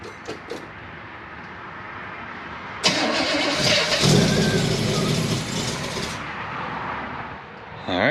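A tired Chevrolet Chevelle 402 big-block V8 cranks and catches, bursting into a loud, rough running roar after a few seconds of quiet shop noise, holding steady for several seconds before dropping away.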